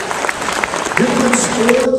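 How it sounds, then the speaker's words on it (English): Audience applause at a team gathering, a short burst of clapping that carries on beneath a voice that starts speaking partway through. "So give yourselves a round of applause."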